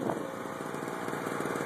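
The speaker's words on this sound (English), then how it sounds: "I have a little two-stroke 1200 watt generator. Right now I got it running to charge the motorcycle battery." A small two-stroke 1200-watt generator runs steadily while charging a motorcycle battery, a constant buzzing engine drone with a fast, even putter, heard alone at moderate distance.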